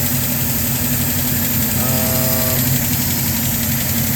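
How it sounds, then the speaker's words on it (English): A LaSalle car engine, running flat with no power from fuel starvation, idles steadily while warming up, a close, constant low rumble with a brief faint whine partway through. "So we'll let the engine warm up a little bit."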